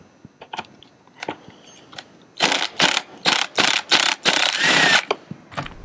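A ratchet loosening bolts holding a seat cushion to its hinges in a Dodge Ram Quad Cab, a few soft clicks and then a fast run of about seven loud, close ratcheting bursts.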